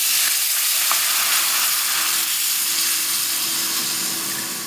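Coconut milk poured into a hot pan sizzles and hisses loudly and steadily, a bright frying crackle that fades slightly toward the end, with no talking.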